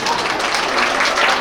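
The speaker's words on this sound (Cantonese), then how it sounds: "大家鼓掌歡迎" A banquet hall audience at a New York Chinese association's centennial and Lunar New Year gala gives steady, dense applause that holds at an even loudness from start to finish.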